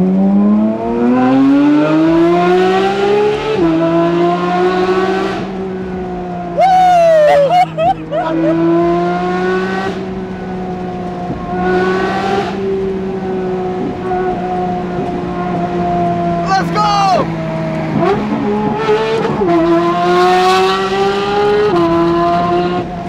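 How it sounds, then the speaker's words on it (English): A Porsche GT3 RS engine roars loudly and continuously through its exhaust, revving up and down with sharp throttle blips and crackles, close to the listener throughout. "You can't stop pushing it to hear that exhaust sound."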